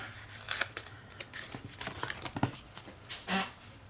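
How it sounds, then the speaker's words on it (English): Scissors snip through planner paper nearby in a string of short, crisp cuts, followed by a louder rustle of the paper near the end. "I have these two that I can cut in half"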